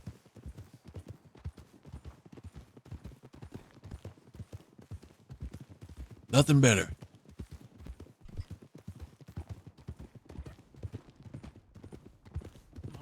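Horse hooves clip-clopping in the WildRP video game during a family hunting trip in the Old West, a brisk steady trot of close hoofbeats with a brief loud burst midway and a short spoken line.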